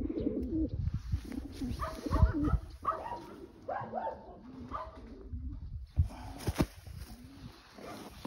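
Janssen De Klak racing pigeons coo in repeated soft, throaty phrases from fairly close by, with a few louder calls and scattered thumps and rustles around them. No voices are heard.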